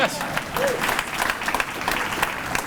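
Applause from a crowd at a leadership talk, a steady, dense wash of clapping close to the listener that holds for the full stretch without easing off.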